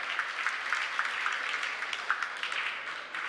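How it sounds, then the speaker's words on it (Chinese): Soft, fairly distant applause from a church congregation for the children at a Mother's Day thanksgiving service, a brief patter of many hands without a clear rise or fall. "我们谢谢可爱的小朋友，再给他们掌声好吗？"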